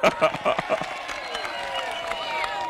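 A crowd at a political rally in Ugunja, Kenya, applauds in a dense wash of clapping, with cheering voices and talk mixed in throughout.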